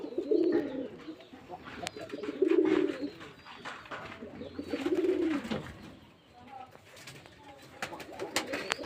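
Pigeons coo at a nest in close, repeated throaty phrases with pauses between them, while a person's voice and light rustling are faintly audible.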